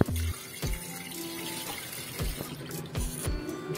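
Tap water runs into a sink while pork ribs are rinsed and rubbed clean, a steady close splashing stream broken by brief knocks and shifts as the meat is moved, with no talking.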